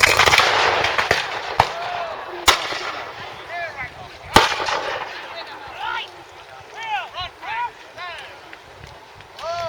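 Sealed Knot musketeers firing musket volleys, sharp cracking reports scattered over several seconds, close and loud, with a voice talking over the shots.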